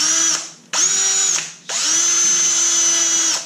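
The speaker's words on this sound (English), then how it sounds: "start by drilling a hole." A power drill with a step drill bit whines loudly in three bursts, the motor spooling up each time, with brief pauses between runs as a hole is bored.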